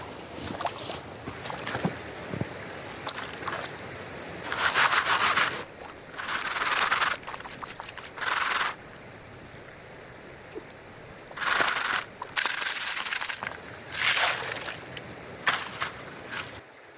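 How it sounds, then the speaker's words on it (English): Creek gravel is classified and panned for gold in winter, with repeated bursts of gritty rubbing and sloshing water as the material is shaken and swirled, alternating with quieter pauses and a steady background of flowing stream. "let's classify this down and pan this out as the second test pan"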